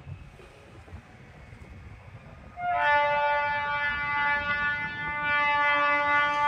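A train pulls into Amalner railway station from Nagar, its low rumble joined after a few seconds by a loud, sustained multi-tone horn that holds steady close by.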